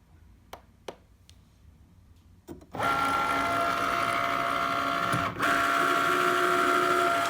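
A few sharp clicks and beeps, then a steady loud mechanical whir of a Cricut cutting machine running continuously, with a brief dip midway.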